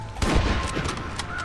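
An explosive rifle round is fired in Red Dead Redemption at crows in a silo, a loud booming blast bursting at once and rolling on as a dense rumble through the rest of the moment.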